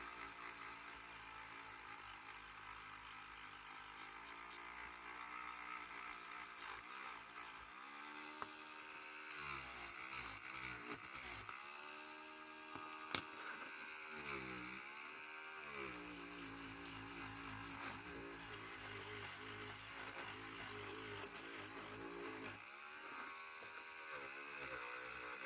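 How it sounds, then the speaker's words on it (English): A Dremel rotary tool with a wire brush runs continuously, whining and buzzing as it cleans and polishes small metal toy car parts, the pitch dipping briefly under load several times, with no talking. "I'll just use the wire brush on the Dremel and just smooth out and clean up the parts"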